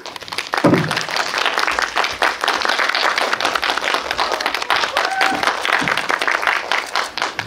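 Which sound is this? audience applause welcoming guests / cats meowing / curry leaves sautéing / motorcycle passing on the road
audience applause welcoming guests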